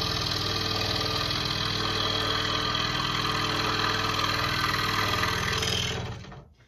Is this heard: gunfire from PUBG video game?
no